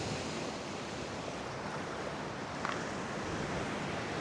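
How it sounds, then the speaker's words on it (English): Churning flood water rolls in waves across flooded Oklahoma land, a steady broadband rush mixed with wind noise, continuous and fairly loud with no voices. "look at those waves"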